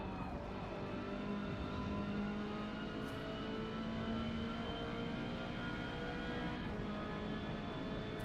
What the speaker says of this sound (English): I do love these touring cars.